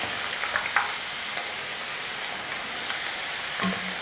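Thinly sliced potatoes fry in a pan, giving a steady close sizzle with a few faint pops and soft stirring taps, no voices.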